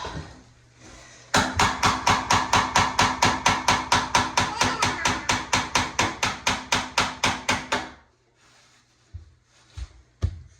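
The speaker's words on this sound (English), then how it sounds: "Go up a little ways, and then you wiggle the knife, and that silicone just supposed to come right out." A knife works old silicone out of a wide gap in a leaky shower, heard as a fast, even series of about thirty sharp knocks that stops abruptly, followed by a few scattered clunks.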